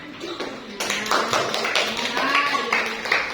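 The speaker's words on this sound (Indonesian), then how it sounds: "Beri tepuk tangan kepada kelompok 4." A primary school class claps for a group of students, a mix of scattered and building hand claps close by, with voices talking over them.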